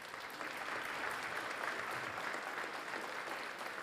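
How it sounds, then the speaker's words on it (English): An audience at a public safety awards ceremony applauds steadily, a dense wash of clapping holding even and moderately loud throughout. "How about another round of applause for Steve?"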